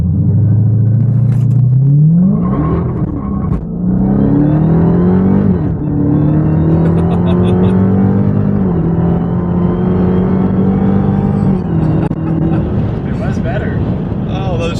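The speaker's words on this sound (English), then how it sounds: "now we're gonna try a 0 to 60, but from first gear" Dodge Charger Hellcat launching from a standstill in first gear, a loud rising engine roar that climbs, drops sharply at gear shifts and climbs again, running close and strong throughout.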